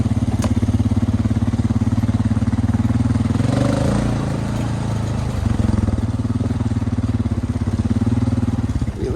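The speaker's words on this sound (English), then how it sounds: "That brush cutter does a pretty good job." A tractor-mounted brush cutter runs in a steady, loud engine drone through thick trees, holding an even throbbing hum from start to finish with a brief swell partway through.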